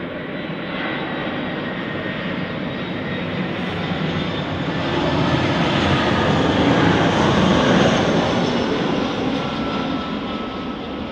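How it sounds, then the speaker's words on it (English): An airliner lands at Manchester Airport, its jet engines giving a loud, sustained broadband roar that swells toward the middle and then eases slightly. The roar is steady, with no voices. "Another wonderful smooth touchdown there."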